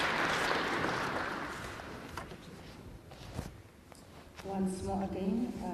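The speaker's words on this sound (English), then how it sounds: "A round of applause for the Brigadier" An audience at a crime indaba claps for the Brigadier, a dense burst of applause that fades over a couple of seconds, followed by scattered shuffling and then a voice speaking into a microphone.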